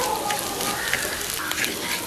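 Fenugreek seeds fry in oil for an eggplant and dried fish curry, giving a steady, close sizzle with light crackles throughout.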